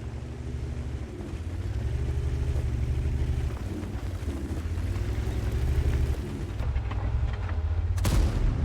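A tank cannon fires in World of Tanks, a heavy booming shot over a constant rumbling engine drone, with a sharp burst near the end.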